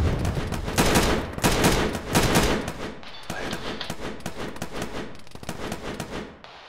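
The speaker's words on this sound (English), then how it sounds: "Bravo's taking shots at the vehicle" Sustained automatic gunfire aimed at a vehicle in the military shooter Arma: dense, loud bursts of rapid shots overlap almost continuously, with a slightly thinner stretch of firing toward the end.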